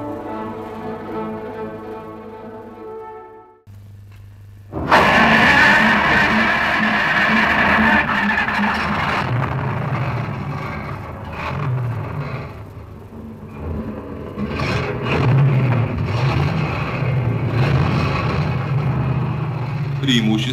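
A ZIL-130S truck runs on a frozen Yakutian highway, its engine rumbling and whirring steadily at close range after a quieter opening, with the drone rising and falling slightly over the drive.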